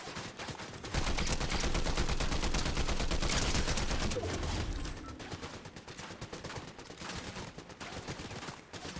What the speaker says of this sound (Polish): Oni strzelają do mnie!